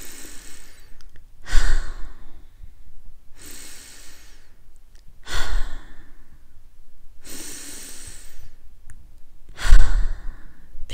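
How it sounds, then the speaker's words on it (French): Three slow, deep breaths during a hypnosis session, each a long airy inhale and exhale spaced about four seconds apart, close and clear with quiet in between. "Prenez 3 grandes respirations."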